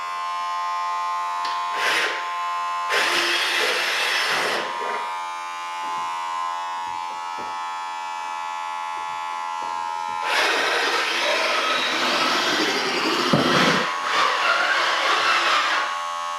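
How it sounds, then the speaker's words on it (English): An electric drill bores pilot holes through an interior wall, three loud whining bursts of drilling separated by quieter pauses with a steady background hum. "I'm going to drill 3 pilot holes going right across."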